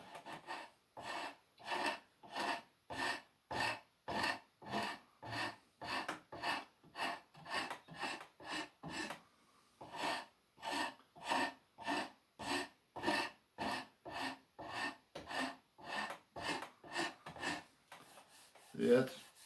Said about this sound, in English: you can scrape with your draw knife